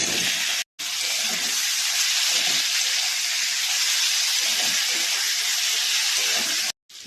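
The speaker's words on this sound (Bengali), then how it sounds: "জলটা দিয়ে দিচ্ছি।" Water poured into a pan of fried spice mix and potatoes sets off a loud, steady sizzling hiss. It holds continuously for several seconds, up close, with no voices.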